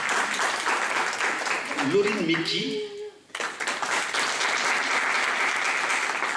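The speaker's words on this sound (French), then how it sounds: "Je vous demande des applaudissements" An audience at a women's leadership event in Lyon gives sustained applause, broad and loud, briefly dipping while someone speaks over it, then swelling again.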